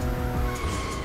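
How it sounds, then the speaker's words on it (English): Toyota Supra drifting in a racing video game: a loud, brief tire squeal and skid over a growling engine, held close for about a second. "Supra drift."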